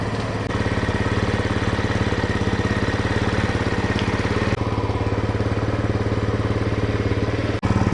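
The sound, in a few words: TaoTao Hell Cat Raptor 125cc motorcycle engine running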